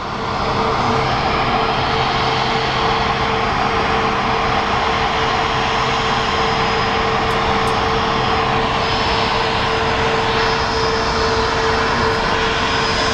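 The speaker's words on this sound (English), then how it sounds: "we may be lucky enough to get the Speedbird as it comes in, which is the A350." A British Airways Airbus A350 jet arriving at an airport roars loud and steady, a broad continuous engine noise with a whining tone that holds throughout with no talk.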